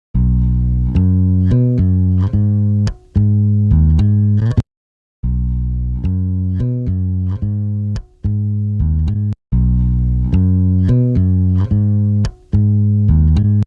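A saturated, gritty synth bass plays a repeating pattern of short punchy notes, loud and upfront, with brief gaps between the phrases.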